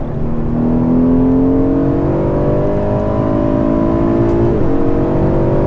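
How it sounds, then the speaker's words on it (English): A loud, deep V12 engine burble from an Aston Martin DB11 drones steadily with rising whiny tones, the exhaust rumbling up through the revs. "Nice little burble down there."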